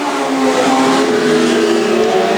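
Legend race cars pass close by on a racing circuit, a loud, buzzing engine note holding steady with slight pitch shifts as a car goes through.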